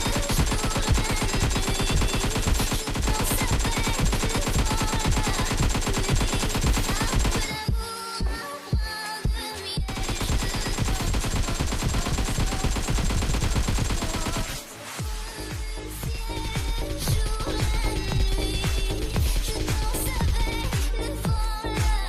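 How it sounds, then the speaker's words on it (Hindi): Loud, sustained automatic gunfire from the video game Free Fire, with dense rapid bursts that break off briefly twice before resuming, and no talk over it. "आ ही गए गाइस, फायरिंग करो, स्टार्ट।"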